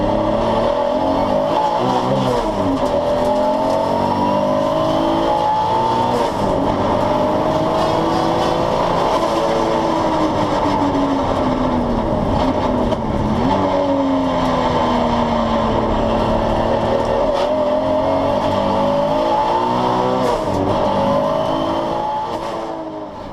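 An 844hp Toyota Supra time attack car on track runs loud and close throughout, its engine note rising and falling through gears in continuous high-revving sweeps for over twenty seconds, with no talking.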